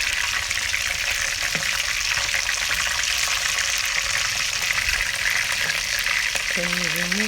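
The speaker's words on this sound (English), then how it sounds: "When the other side is brown inside, you flip the other side to get fried too" Fish frying in hot oil for Nigerian egusi soup, a steady broadband sizzle filling the whole stretch with light spattering crackle and occasional clinks near the end.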